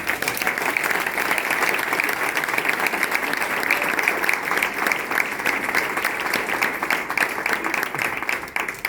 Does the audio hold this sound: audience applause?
yes